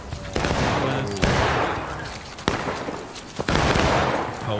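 Dense automatic gunfire and bursts of shooting from a multiplayer video game firefight, several loud sharp onsets with sustained rattling between them, close and continuous.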